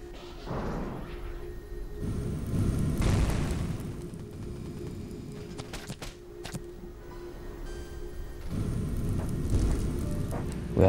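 Artillery barrage in the strategy video game Machines at War 3, a run of deep rumbling booms and bursts rolling one into the next at moderate loudness, swelling again near the end, with no talk.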